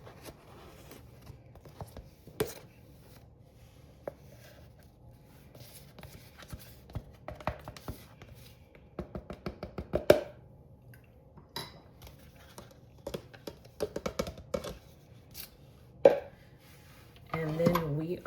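Pre-measured flour, baking soda and other dry ingredients for chocolate chip cookies are tipped into a mixing bowl, with scattered clinks, taps and scrapes of bowls and spoons alongside occasional speech.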